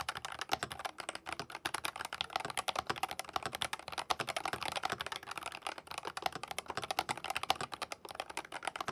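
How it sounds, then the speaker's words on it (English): Rapid, steady typing on a YUNZII RT68 magnetic keyboard, a dense run of quiet, close clicks and clacks with no voices. "here's a little sound test of the YUNZII RT68"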